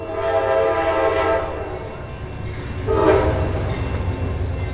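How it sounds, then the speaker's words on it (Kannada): Train sound effect of a locomotive starting and moving off, with two long horn blasts over a rumbling, clattering rail background. "ರಾಮದಾಸರು ಎಲ್ಲರನ್ನೂ ಆಶೀರ್ವದಿಸಿದ ಬಳಿಕವೇ ಟ್ರೈನ್ ಸ್ಟಾರ್ಟ್ ಆಗಿ ಮುಂದೆ ಸಾಗುತ್ತದೆ."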